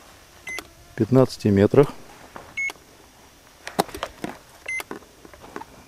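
A DEEPGEOTECH magnetometer gives a steady run of short electronic beeps while searching for a UAZ, followed by sparse clicks and soft ticks, with someone speaking over the signal.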